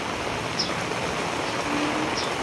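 Rainwater flowing and pooling from a solar dryer near a river, a steady broadband rushing wash with no talk.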